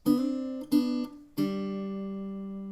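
An acoustic guitar plays the closing notes of a riff: three plucked notes in quick succession, the last ringing out and slowly decaying, close and clear with no talking.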